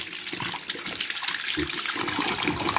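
Strong water gushing steadily from a newly made, maintainable tap fitted with a brass fitting, a continuous loud rush and splash with no one talking.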